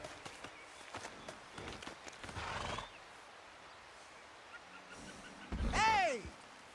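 A horse in Red Dead Redemption 2 clomps and snorts through several irregular hoof thuds, then lets out a loud, close, rising and falling neigh near the end, with scattered rustling and movement around it.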